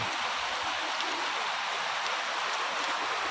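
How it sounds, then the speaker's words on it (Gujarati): Heavy rain pours down on a freshly planted chilli field in a steady, dense hiss that fills the whole clip without a break, close and loud. "ફૂલ વરસાદ ચાલુ થઈ ગયો"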